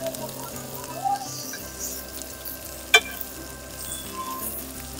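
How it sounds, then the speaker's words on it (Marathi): A Mumbai dabeli is toasted on all sides in a pan, giving a soft, steady frying sizzle throughout, with a brief sharp clink partway through. "जसं मी करतो आहे तसं सगळ्या साईड्सनी त्याला शेकून घेतो आहे"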